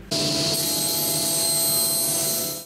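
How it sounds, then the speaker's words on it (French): A loud power saw whines through wood, its high-pitched cutting tone starting abruptly and holding steady before tapering off at the end. "une scie"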